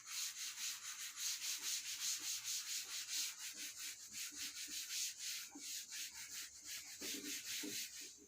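A board being erased along its upper part, with steady rhythmic rubbing strokes close and fairly loud, continuous throughout and with no talking.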